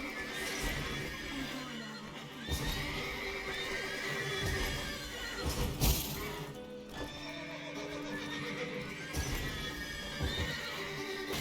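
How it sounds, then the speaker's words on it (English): Horses in the game The Witcher 3 neigh and whinny loudly again and again, with clip-clopping hooves and stable commotion under them the whole time. "Gotta calm all the horses before they wake the guards."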